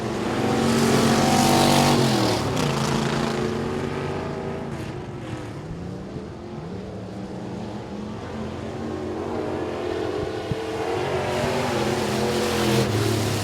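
Race cars roaring around Sabine Speedway, a steady loud engine drone that swells and recedes as the pack passes, with no talk over it.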